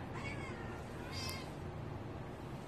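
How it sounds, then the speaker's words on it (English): A rescued mother cat gives a faint, drawn-out meow, alone and at a short distance, over a quiet hiss of background noise. "She's the sweetest cat ever."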